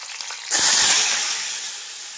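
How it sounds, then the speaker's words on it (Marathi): Garlic hitting hot oil in a kadhai bursts into a loud, steady sizzle and hiss about halfway through, after a brief quiet start, then slowly eases off. "चवीसाठी मी लसूण टाकणार आहे"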